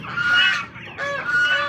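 Honking calls from ducks offered for sale at a poultry market, two loud nasal bursts close by with a short gap between them.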